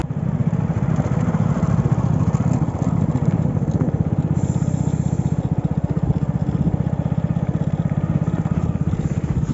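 A motorcycle runs on a village road at night, its engine a loud, close, steady drone that holds throughout.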